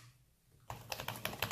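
Quick, light key clicks from typing on an iPad Pro 2018 keyboard case, a brisk run of soft close taps after a quiet start.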